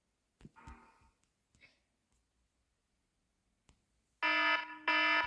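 An EAS emergency alert tone blares loud and harsh in two long bursts with a short gap between them, following a stretch of faint scattered knocks and quiet.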